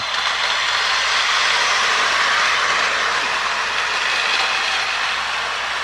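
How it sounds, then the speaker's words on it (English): A Lionel toy switcher locomotive runs on its track with a loud, steady motor whir and rolling rumble, close up and unbroken throughout. "the motor must be getting freed up more and more because it's speeding up a little bit"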